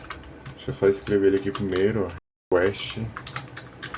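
Code is typed on a computer keyboard while writing software authentication code: bursts of quick key clicks mixed with someone speaking nearby.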